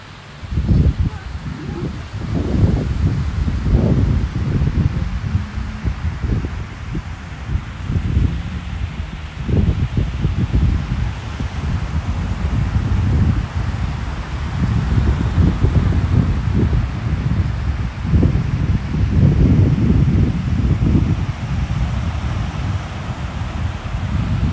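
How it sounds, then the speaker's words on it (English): Gusty wind buffets the microphone in repeated low rumbling bursts on a beach at Les Sables-d'Olonne in western France, with a soft rushing backdrop of open shoreline. "It's a little bit windy."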